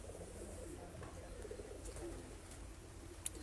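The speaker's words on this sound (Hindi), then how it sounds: "ये 2 कबूतर ठीक है, ये नीचे आए हुए हैं। इनमें से एक अभी उड़ा हुआ है, एक बैठ रहा है ठीक है।" Pigeons on a rooftop, one flying: faint, low cooing drifts through a steady background hum, with no voices nearby.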